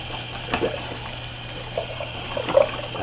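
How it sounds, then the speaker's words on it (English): Water running from a tap while a shaving brush with gel tips is rinsed beneath it, making a soft, steady trickle with a few faint splashes, quiet and close. "Just want to rinse that off there."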